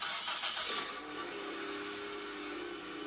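A motor cranks and catches, then settles into a steady idling rumble with a high whine on top, fairly close and continuous.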